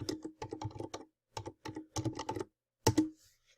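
Someone types a search into a library catalog on a computer keyboard, with bursts of rapid key clicks separated by brief pauses and a final firmer keystroke near the end, close and clear without talk.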